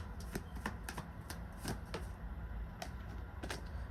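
A deck of tarot cards is shuffled by hand in quick riffling bursts, several crisp flutters close to the listener.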